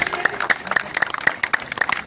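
An audience at the Namo Yuva run event in Hubballi-Dharwad claps for the organising team, a brisk burst of applause from a crowd heard close up.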